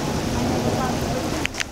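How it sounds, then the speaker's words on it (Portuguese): Heavy rain with flash flood runoff in Ramos de Presidente Dutra near Irecê, Brazil, a loud, dense roar of downpour and rushing water that fills the short stretch, with a couple of brief sharper knocks near the end. "Enxurrada aqui em Ramos de Presidente Dutra, a chuva abençoada, mandada por Deus."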